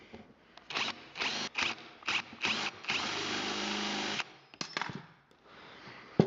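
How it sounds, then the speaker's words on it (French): A power tool milling a part of a Denix USM1 replica carbine runs in short, loud, whining bursts with gaps between them, then one longer sustained pass before a few final brief bursts, close and with no talking. "On va pouvoir continuer à fraiser."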